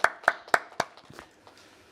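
Congregation at a church healing service applauding: four sharp, loud bursts of clapping in quick succession, then smaller scattered claps trailing off into quiet.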